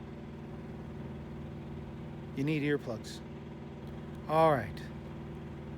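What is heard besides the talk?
small car engine idling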